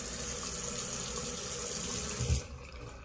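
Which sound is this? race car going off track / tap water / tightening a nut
tap water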